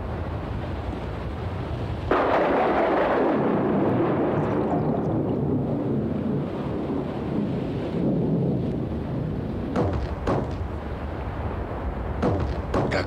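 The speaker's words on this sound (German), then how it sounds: "Dunkle Wolken formierten sich zu bedrohlichen Vorboten eines mächtigen Gewitters" Rolling thunder from a powerful thunderstorm bursts in with a loud rumble that lingers and slowly fades, followed by a few sharper cracks near the end, over faint rain.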